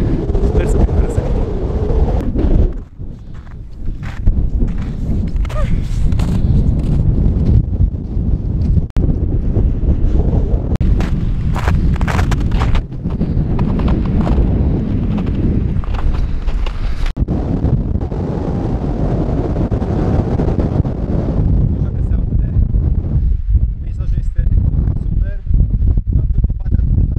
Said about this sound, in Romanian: Afară sunt minus 8 grade, bate vântul, este foarte, foarte frig.